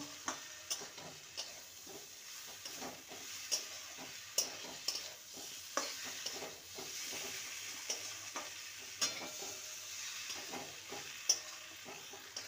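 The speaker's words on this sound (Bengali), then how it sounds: "এবার ভেজে রাখা ভেন্ডির টুকরোগুলো দিয়ে দেবো। ভালো করে মশলার সাথে নেড়ে নেব।" Fried okra pieces are stirred into a sizzling masala in a pan, a quiet steady sizzle broken by regular soft scraping strokes of the spatula.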